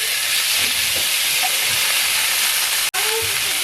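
Onion sizzling in a pan of pork chop juices, a loud, close, steady broadband hiss of frying that is briefly interrupted near the end, with no talking.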